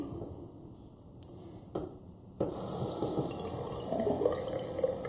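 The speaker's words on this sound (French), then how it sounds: "je vais y mettre un tout petit peu d'eau" A small trickle of water runs from a tap into a sink after a couple of light clicks, the flow swelling to a steady, close hiss for the last few seconds.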